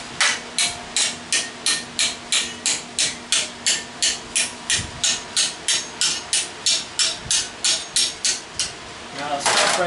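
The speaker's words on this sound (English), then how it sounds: "I don't want to use that hammer, I want to use this hammer right here." A hammer strikes sheet metal held in vice grips while customizing a roll pan on a 1998 Chevy C/K truck, roughly twenty sharp, evenly spaced metallic blows in a steady rhythm, close and loud, ending with a brief scraping clatter.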